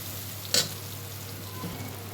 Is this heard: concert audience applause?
no